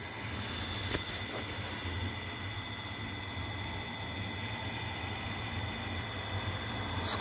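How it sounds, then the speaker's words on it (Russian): Electric winch motor reeling in rope, a steady low mechanical hum and whine with faint high tonal lines, quiet and continuous without talk. "Скорость вот 15 метров в секунду, 300 ватт всего-навсего тратит мотор на эту смотку."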